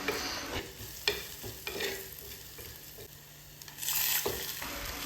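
Food being stirred in a frying pan at home: repeated scraping strokes of a utensil over a steady hiss of sizzling oil, close and fairly quiet with no talking.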